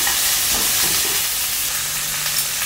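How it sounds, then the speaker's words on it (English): Pork ribs sizzle loudly in a frying pan with star anise, a continuous hissing fry with faint stirring scrapes and no talk. "Then we add the pork ribs back to the pan."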